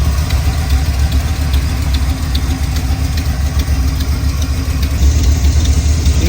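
A 1978 Chevrolet C10 truck engine idles with a steady low rumble close by after a water pump, radiator and alternator replacement, running evenly with no voices.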